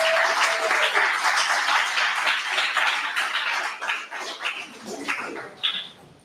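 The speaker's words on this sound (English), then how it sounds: "please give a big hand clap" An audience claps for graduates of a health policy certificate program, a dense round of applause that starts loud and thins into scattered individual claps, with a few voices and a faint whimper-like sound mixed in.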